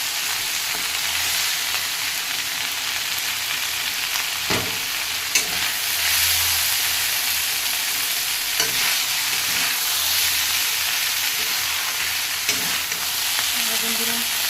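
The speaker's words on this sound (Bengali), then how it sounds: "আমার ঢেঁকি শাক ভাজা হয়ে গেছে" Dhenki shak, a leafy green, fries in a pan with a loud, steady hiss that continues throughout. Occasional spatula stirs and scrapes break through the sizzle, and no one speaks.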